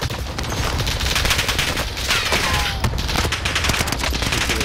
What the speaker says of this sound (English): Oh, someone else is shooting.